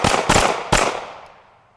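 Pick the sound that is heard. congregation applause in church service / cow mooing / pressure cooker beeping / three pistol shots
three pistol shots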